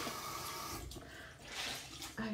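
Cold water runs from a tap as a face is rinsed with a washcloth, a soft, steady, close splashing wash that shifts slightly in texture before a brief clunk at the end.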